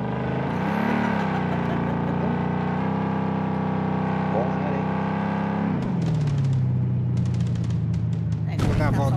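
A car engine hums steadily in the online shooter game Blood Strike, its drone shifting in pitch as the vehicle moves, with a burst of gunfire near the end and players talking over it throughout.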